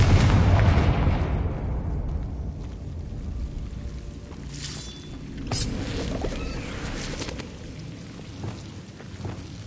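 A Confringo blasting spell in the Hogwarts Legacy video game, a loud booming explosion up front that trails off into a long rumbling crackle with scattered sharper bursts.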